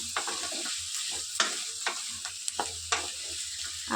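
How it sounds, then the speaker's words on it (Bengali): Banana and potato pieces sizzling in a hot pan while being lightly stirred, a dense continuous fry with soft, irregular scraping strokes, close by and without speech. "আর আমি একটু হালকা নাড়াচাড়া করে নিয়েছি"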